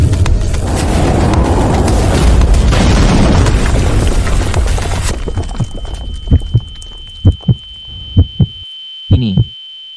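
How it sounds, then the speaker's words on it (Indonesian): Explosion blasting a wall apart from a distance in a dubbed martial-arts drama: a sustained heavy rumbling boom for about five seconds, then a string of short sharp thuds of debris after it fades. "Meledakkan tembok dari kejauhan."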